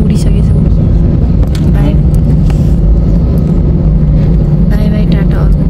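A passenger jet on a flight out of Dubai takes off, its loud, constant engine roar and rumble filling the cabin while people talk excitedly over it.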